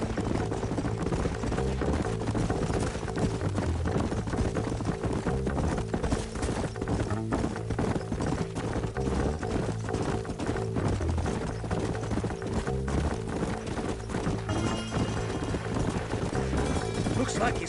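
Rhythmic clip-clop of horse hooves in the Red Dead Redemption video game, steady and prominent under a dense bed of music and ambient game sound, with a brief whinny possible.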